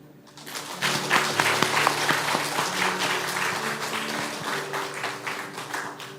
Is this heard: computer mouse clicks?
no